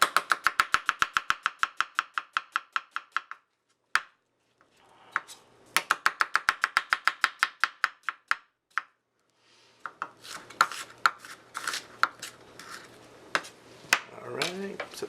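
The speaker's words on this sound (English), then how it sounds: "I'm going to julienne these onions" A knife julienning onions on a cutting board while making homemade pizza, fast rhythmic chopping in two quick bursts with a pause between, followed by scraping and clattering of utensils and pans.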